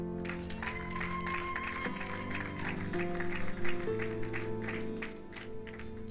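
A church congregation applauding during a sermon: sustained, fairly even clapping from a crowd, steady and moderately loud, with music playing underneath.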